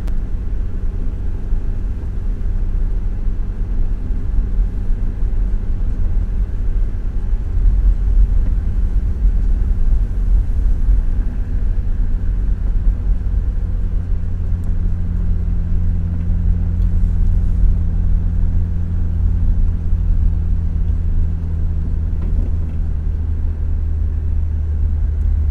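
A car engine idles at light throttle during automatic air-fuel tuning with a Bluetooth MoviChip ATF module. It gives a steady, loud, low rumbling drone that barely changes for the whole stretch, with no voices.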